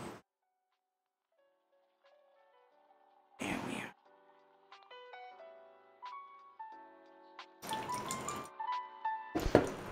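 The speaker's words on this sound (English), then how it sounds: "It's just putting some water into the paper, into the filter paper, and just watch it get rinsed." Water is poured over paper coffee filter to rinse it, heard as a few short splashing bursts and light drips against a quiet room with faint tonal background sounds.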